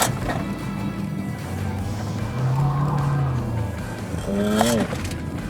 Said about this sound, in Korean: 타이어가 계속 소리를 지르는데도 버텨주잖아?